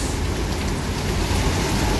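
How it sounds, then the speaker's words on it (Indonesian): Heavy rain pours down in the city of Palembang, a dense, loud, unbroken wash of falling water with no pauses. "Hujan tambah deras."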